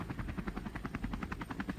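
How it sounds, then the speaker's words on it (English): A helicopter flies in, its rotor thumping in a fast, steady rhythm, fairly quiet and continuous, with no talking. "Bring the chopper down."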